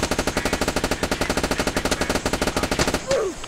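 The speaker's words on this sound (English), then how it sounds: "I'm being shot at." Rapid automatic gunfire in the Roblox game Polybattle, a dense rhythmic stream of shots for about three seconds that stops abruptly and gives way to a brief whooshing effect.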